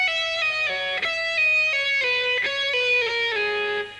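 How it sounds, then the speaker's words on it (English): Distorted electric guitar plays a fast, smooth legato lick built on pull-offs, a steady run of clear sustained notes with a few sharp pick attacks, loud and alone. "this sound with a lot of pull-offs gives you a real legato sound like this"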